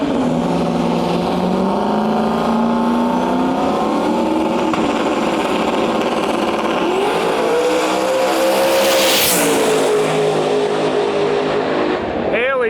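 Drag race cars, a War Eagle and a Buick GSX, roar loudly at a racetrack with engines rising and falling in pitch and a sustained heavy rumble throughout.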